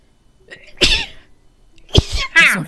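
A person sneezes, with a sharp, loud burst preceded by a short intake of breath, followed by a second quick sneeze-like exhalation close to the microphone.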